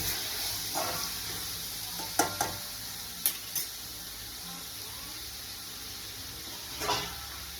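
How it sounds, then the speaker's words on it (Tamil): Onions sautéing with salt in a pan for crab gravy, a soft continuous sizzle with occasional spatula scrapes and light metallic taps against the pan, fairly quiet and close. "ரெண்டு சால்ட்டு போட்டு வதக்கணும்"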